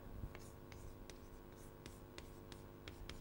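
Handwriting during a lecture: faint, close scratching strokes of a pen or chalk, coming in short repeated bursts over a quiet room hum.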